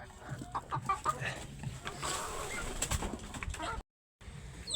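Young chicks on a poultry farm cluck and cheep softly while feeding, scattered calls over a low background, with a brief dropout near the end.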